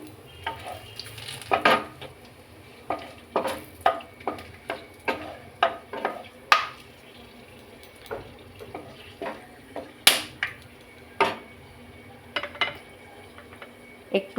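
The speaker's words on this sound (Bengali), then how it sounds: "তেলটা গরম হয়ে গেছে, এখন আমি এর মধ্যে দিয়ে দেব এলাচ, দারচিনি আর তেজপাতা।" Cardamom, cinnamon and bay leaf fry in hot oil, a soft sizzle beneath repeated sharp scrapes and clinks of a spatula stirring in a pan, close and irregular in rhythm.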